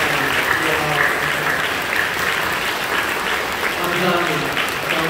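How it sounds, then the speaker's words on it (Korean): A church congregation claps warmly and continuously to welcome newcomers, a dense, sustained round of applause filling the room throughout. "여러분들 박수로 뜨겁게 환영해주시기 바랍니다"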